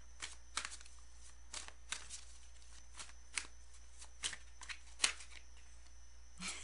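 Tarot cards shuffled and riffled in quick, irregular bursts of crisp snapping and flicking, close and fairly quiet against a steady low hum, with no talking.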